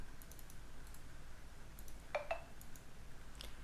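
Computer mouse clicks on a Windows 11 PC, a few sharp, quiet clicks close to the microphone over a low background hiss, with no talking.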